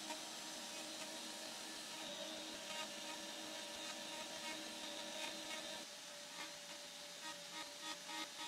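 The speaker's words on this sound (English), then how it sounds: "So all that's left to do now is turn the router on, and it's the same procedure." A wood router carves a 10-inch radius on an electric guitar fretboard with a continuous, faint, rough whirring and grinding hiss. The tone shifts slightly as the cutter is rocked back and forth.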